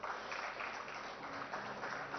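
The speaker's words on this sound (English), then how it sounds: "Round of applause for the moderator" Audience applause at an AI conference panel session, a steady dense patter of many hands clapping, fairly faint and continuous with no talk.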